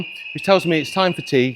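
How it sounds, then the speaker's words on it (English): A building fire alarm sounds as a steady, continuous high tone running through the whole moment, while someone talks over it in the foreground. "That's the fire alarm"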